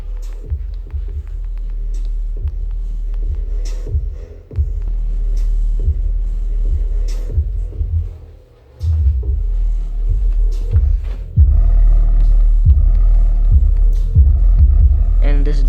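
Polk home theatre speakers play indoors, giving out a deep, throbbing bass rumble with pulsing low thumps that grows heavier near the end.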